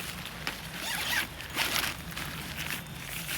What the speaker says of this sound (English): It zips down the side, so you can unzip the bag for ease.